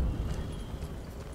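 Horse hooves clip-clop steadily in the video game Ghost of Tsushima, a brisk run of muffled thuds over low rumbling background sound, with no talk.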